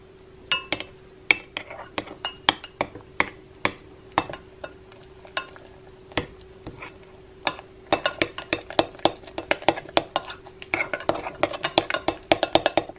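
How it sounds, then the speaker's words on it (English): A spoon taps and scrapes against a bowl as almond flour is stirred into gluten-free donut batter, sharp clinks coming in a steady, quickening rhythm, close up with a faint voice in the background. "You want to stir it until there are no lumps left in it."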